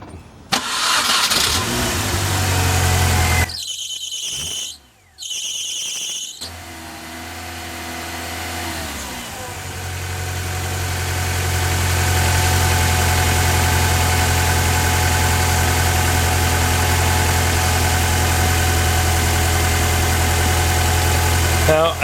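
A Mini Cooper engine with a faulty belt tensioner cranks and catches, then idles with a persistent high whining squeal over its steady hum, loud and close, after a brief pause in the sound.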